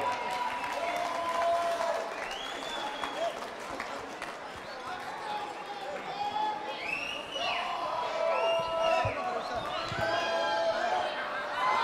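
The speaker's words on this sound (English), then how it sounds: "big round of applause for his opponent, Omar" A boxing crowd claps and cheers after a fight, a broad wash of applause running the whole time under an announcer's amplified voice and scattered shouts.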